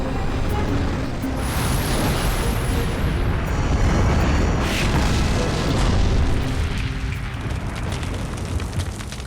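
Tank cannon fire and explosions from a Gulf War battle between an American cavalry troop and an Iraqi T-72 tank company: a continuous loud roar of blasts and rumbling booms, with a high whistling tone early on and some voices mixed in.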